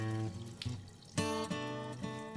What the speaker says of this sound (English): When you've sanitized all the bottles, empty them into the sink.